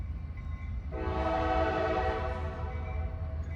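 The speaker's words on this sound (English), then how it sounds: "I'm hearing another westbound train." A westbound train passes at Haley Tower in Terre Haute, Indiana, its horn sounding one long sustained blast over a steady low rumble of rolling cars, heard from trackside with no talking.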